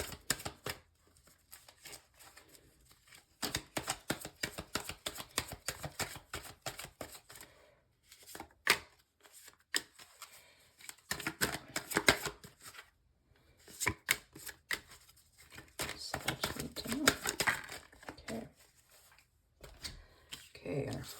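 A deck of tarot cards is shuffled by hand in repeated crisp riffling bursts with short pauses between them, close and fairly quiet, with a voice speaking at moments.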